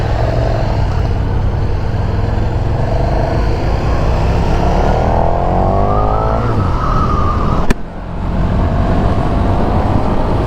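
A KTM SuperDuke 1290 motorcycle roars loudly up close while ridden in road mode, its engine note climbing steadily in pitch under acceleration, then a sharp gear-change blip and a continued strong drone with wind rush.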